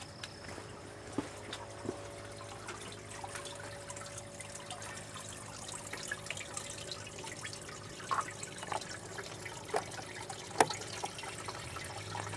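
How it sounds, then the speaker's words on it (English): Water runs steadily into the bottom reservoir of a hydroponic pipe system, a soft continuous wash with occasional faint drips and clinks, fairly quiet and without talk. "Starting to fill up the bottom reservoir."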